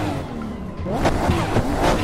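A big car drifts on the tight Ebisu Touge track in the video game Assetto Corsa, its engine revving and tires squealing in short rising bursts under steady driving noise.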